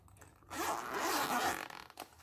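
A LIHIT LAB book-type pencil case is unzipped in one smooth, continuous zip lasting about a second, close and clear with no talking.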